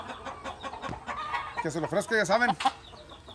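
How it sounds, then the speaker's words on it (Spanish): A nervous rooster named Liper clucks in a rapid burst of several sharp calls midway, close and clear, with someone talking before and around it. "Es que está otro gallo aquí enseguida, por eso está muy nervioso."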